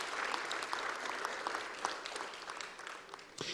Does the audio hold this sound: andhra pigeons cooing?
no